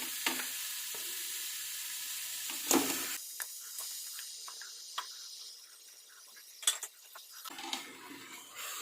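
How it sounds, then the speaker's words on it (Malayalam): Chicken pieces drop into a pan of fried chilli-coriander masala for a chicken curry and set off a soft, steady sizzle, with occasional clinks of a spoon stirring against the pan. "ഇനി നമുക്കിതിലേക്ക് എടുത്ത് വെച്ചിരിക്കുന്ന ചിക്കൻ ഇട്ട് കൊടുക്കാം."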